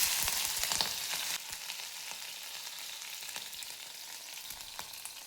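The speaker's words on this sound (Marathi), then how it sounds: "कांदा आणि हिरवी मिरची तेलामध्ये भाजून घ्यायचे." Onion and green chili frying in hot oil for a Maharashtrian sprouted matki usal: steady crackling sizzle close by, louder at first, then settling with scattered pops and the occasional stir.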